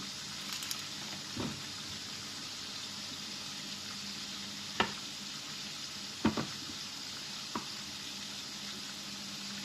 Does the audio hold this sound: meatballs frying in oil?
yes